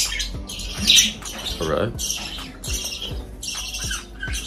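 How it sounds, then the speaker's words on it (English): Several birds squawk in short, harsh bursts that repeat about every second outdoors, with a few thin higher chirps that may come from a baby bird, and someone speaks briefly nearby. "The birds. They're making a lot of noise"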